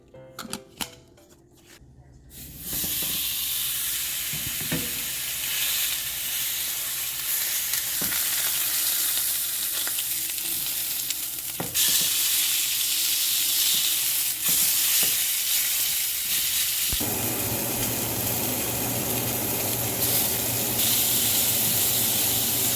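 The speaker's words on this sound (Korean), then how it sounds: "김치 오랜만에 구워봤고요" Pork belly and kimchi fry in a pan with a loud, continuous sizzle, broken by occasional sharp clicks and stirring scrapes.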